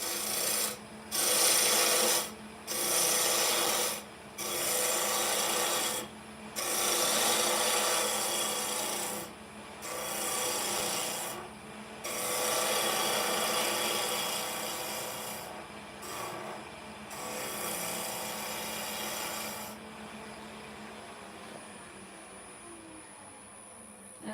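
A gouge cuts wood on a spinning lathe while shaping a cake stand, producing a series of loud, close rasping passes of a second or several seconds each, separated by short pauses, the last long stretch smoother.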